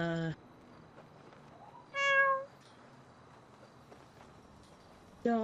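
A pet cat meows several times outdoors, with short harmonic cries at the start, around two seconds in, and again at the end, separated by quiet background.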